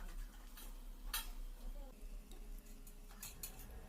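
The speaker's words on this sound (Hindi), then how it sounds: "थोड़ा सा बारीक कटा हुआ लहसुन डाल दिया है और लहसुन और जीरा को अच्छे से भून लेना है" Minced garlic, cumin seeds and chopped green chili fry in hot oil for dhaba-style palak paneer, giving a steady close sizzle with scraping stirs and a few sharp clinks of a spoon against the pan.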